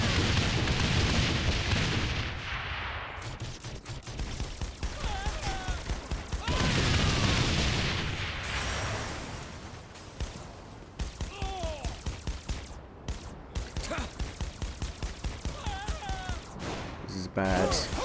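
Video game gunfire in Saints Row The Third: rapid bursts of shots and booming blasts, loud and dense, with a player talking over the action.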